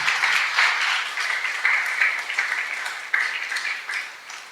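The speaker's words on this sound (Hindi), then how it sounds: "जोरदार तालियां प्रभु यीशु मसीह के लिए बजाएंगे।" A church congregation at a Hindi sermon gives hearty applause in praise of Jesus Christ: continuous, even clapping from many hands, moderately loud and unbroken by voices.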